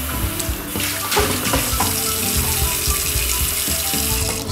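Tap water runs steadily as soap is rinsed off winemaking equipment at a sink, a continuous close wash with faint clinks of the gear being handled.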